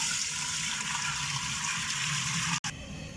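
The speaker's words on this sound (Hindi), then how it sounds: "अब मैं इसमें 10 से 12 लीटर पानी जो है वो डालने लगा हूँ।" Ten to twelve liters of water pouring steadily into a cooking pot of lentils, a constant rushing splash that cuts off abruptly near the end, fairly close and without talk.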